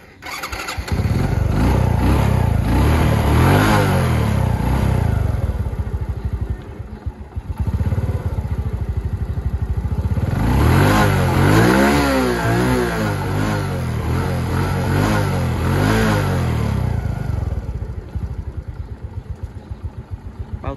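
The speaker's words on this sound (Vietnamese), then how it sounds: "Em nổ máy nha." A 1997 Honda Wave 100 motorcycle engine cranks and starts, then idles and revs up in several bursts, close by and steady, with no talking.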